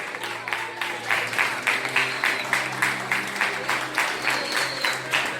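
A church congregation applauds steadily throughout, the clapping rising and falling in even pulses with a faint hum underneath.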